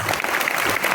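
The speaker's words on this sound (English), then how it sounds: "if we applaud them, and the louder that you applaud will show" An audience applauds at a certificate distribution ceremony for a CBSE training program, dense clapping that stays loud and steady.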